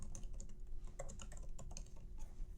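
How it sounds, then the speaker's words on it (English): Quick, close clatter of keys being tapped on a computer keyboard, a short burst of light, irregular clicks over a soft background hum. "Let's type it out."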